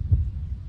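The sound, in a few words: heartbeat sound in a song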